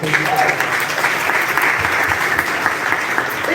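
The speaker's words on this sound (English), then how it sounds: "Please, a round of applause for him." Loud applause from a crowd, a thick continuous roar of clapping close by, with faint voices mixed underneath.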